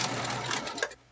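A sewing machine backstitches at the ends of a pocket opening, a close, rapid mechanical stitching chatter that runs steadily for about a second, then stops.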